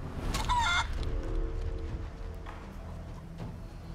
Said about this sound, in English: Then turn him into a chicken.